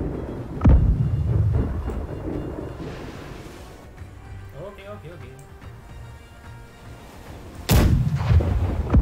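Ship cannons fire in the naval battle game Blackwake: a heavy booming blast opens, a second loud one lands near the end, and rumble and voices fill the stretch between them.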